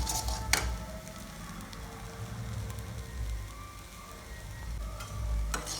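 Soy chunks and onions sizzle in a little oil while being stirred, a soft steady frying hiss with occasional scrapes of a spoon against the pan.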